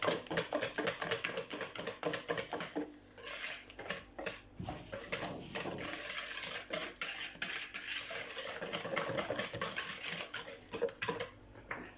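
A spoon or whisk beats chocolate cake batter in a bowl, with rapid, uneven clattering strokes that knock against the sides, close and fairly loud, pausing briefly partway through.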